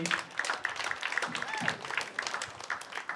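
Audience clapping for a contestant at a comedy show, a fairly quiet patter of hands with faint murmuring and a brief tonal sound mixed in.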